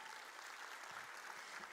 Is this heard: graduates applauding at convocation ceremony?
yes